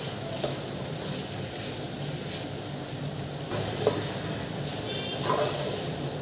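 Mint leaves sautéing in a pan give off a soft, continuous sizzle with occasional stirring scrapes and clicks, steady and fairly quiet.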